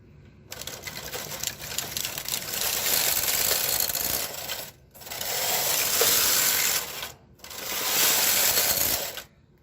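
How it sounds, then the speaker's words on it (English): A knitting machine carriage is pushed across the needle bed in three long passes, each a loud, close mechanical whirring rattle separated by brief pauses as it reverses direction. "We are going to knit until the knitting machine goes all the way forward or all the way back with the needles."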